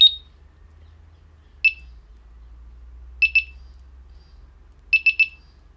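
A Delkim bite alarm receiver gives sharp, high electronic pips: a single pip, then a double, then a triple, each clean and close, with a faint low vibration buzz humming underneath in a quiet room.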